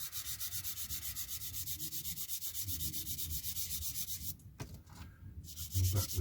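A sander rubs along the seam of a 1/48 scale Kinetic F-104J Starfighter plastic model kit, making a steady rhythmic scratching close by for about four seconds, then a pause before a few more short strokes.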